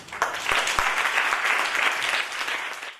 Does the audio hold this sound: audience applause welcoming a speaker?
yes